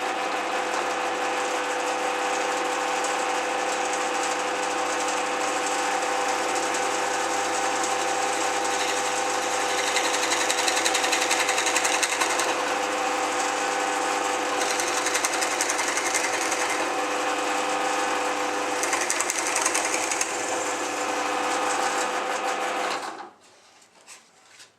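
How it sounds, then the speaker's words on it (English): Bench drill runs and bores a straight vertical hole, a loud, steady mechanical whir with rhythmic rattling that swells a little midway, then cuts off abruptly into near silence. "I'll just turn it on and I'll drill one out."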